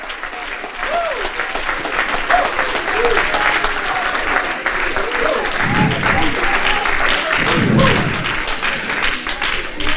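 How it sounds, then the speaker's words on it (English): Church congregation clapping hands in praise, a steady broadband applause filling the whole stretch, with a few heavier thumps and faint voices underneath. "Let's give the Lord a good hand clap of praise."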